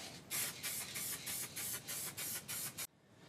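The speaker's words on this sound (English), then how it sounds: "I'm just gonna slightly spray it with the gray." Eight short hissing bursts of gray spray paint in a steady rhythm, each about a quarter second long, close by, then the spraying stops, while repainting a Halloween prop staff.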